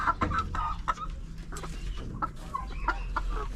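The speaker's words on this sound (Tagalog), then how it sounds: "nagsama na dito yung ano, mga breeder ko, saka yung mga 4 months old na manok" Breeder chickens and four-month-old birds cluck together in a farm pen, a busy overlapping chorus of short clucks and calls, fairly close and loud, with no speech.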